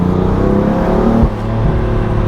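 A 2020 BMW M4 Competition Convertible in Sports Plus mode revs loudly and steadily up close through a corner in second gear, its exhaust note holding a deep rasp before briefly dipping as the throttle eases.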